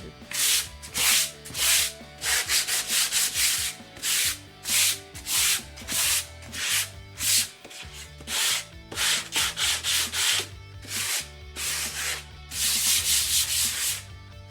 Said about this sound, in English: so I am going to sand it down.